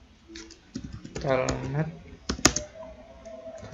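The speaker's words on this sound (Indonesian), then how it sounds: "Kita ketikkan" Quick clicks of a computer keyboard being typed on sound close and light under someone speaking, with a sharper keystroke standing out partway through.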